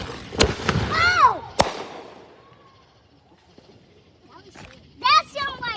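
Fireworks pop and crackle outside at night in sharp bursts, with whistling rising trails and loud bangs near the start and again toward the end, while people shout and talk close by.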